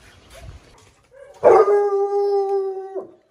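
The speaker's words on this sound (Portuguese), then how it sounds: "Olha como que ela urra." An American Foxhound female howls in one long, loud, sustained note lasting about a second and a half, with a quieter, indistinct stretch of sound before it and no talking.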